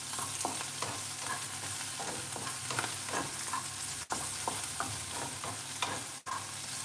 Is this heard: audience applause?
no